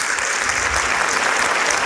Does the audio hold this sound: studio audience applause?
yes